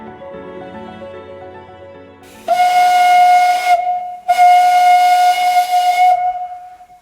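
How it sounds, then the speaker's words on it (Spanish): A steam locomotive whistle blows loud and close at Venta de Baños with the engine Berraco, in two long steady blasts with a short gap between them, after low rumbling steam sounds. "¿Qué sientes, Emilio, cuando suena el pito del tren?"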